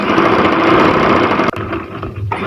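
A sewing machine running continuously while stitching a folded half-inch trouser hem with shiny anchor thread, a loud, close mechanical whir that cuts off abruptly midway and then a quieter rattling continues.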